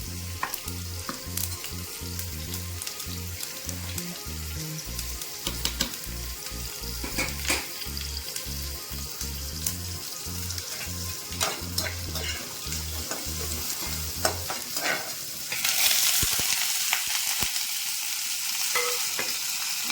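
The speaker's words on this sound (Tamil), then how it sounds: "கோவக்காய் பொரியலுக்கு கடுகு போட்டுக்கிறேன் எண்ணெய் ஊற்றி" Mustard seeds and ivy gourd fry in hot oil for a Tamil-style poriyal, giving a loud, continuous sizzle with repeated stirring scrapes and pops. Toward the end it shifts to a brighter, hissier crackle. No one speaks.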